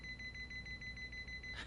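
A heart rate monitor in the video game Yakuza Like a Dragon beeps steadily in a quick, even series of soft electronic tones that sit over a low background hum.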